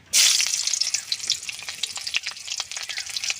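Slit green chilies hit hot oil in a wok (kadai) while a vegetarian cabbage ghonto is cooked, setting off a loud sudden sizzle that settles into steady close crackling spatter, with no talk.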